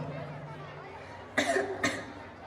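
Two short coughs ring out close together during a school play scene about smoke pollution, rising over a low murmur of background chatter.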